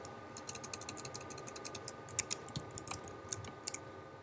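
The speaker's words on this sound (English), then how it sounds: "I'm not typing so good today, am I?" Typing on a computer keyboard, with rapid, close, fairly quiet key clicks in an uneven stream of short bursts and brief pauses, and no voices.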